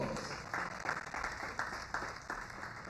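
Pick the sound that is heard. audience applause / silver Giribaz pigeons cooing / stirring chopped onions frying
audience applause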